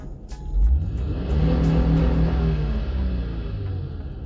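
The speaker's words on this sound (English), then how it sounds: "You wanted me to rev the engine." Camper van engine revved up from idle, a close, loud rumbling rise in pitch that holds high for a couple of seconds and then settles back down, with no talk over it.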